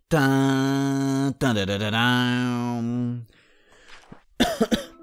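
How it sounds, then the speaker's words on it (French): A long, sustained voiced sound, then a short pause and a brief burst of coughing near the end, close and fairly loud. "un petit toussement"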